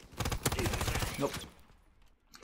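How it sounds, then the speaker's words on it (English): Rapid submachine gun fire in Call of Duty WW2, a dense burst of rattling shots that fills the first second and a half before fading to quiet. "Trying to use an SMG like an assault rifle and it ain't gonna work"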